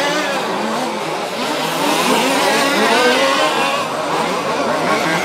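OR6 2WD RC race cars from a German championship final, with small electric motors whining loudly and continuously as the cars pass close by in a dense, high-pitched buzz without break.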